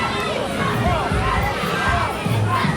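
A standing-room-only wrestling crowd cheers and shouts loudly and continuously, children's yells mixed into the dense roar, with a commentator's voice over it.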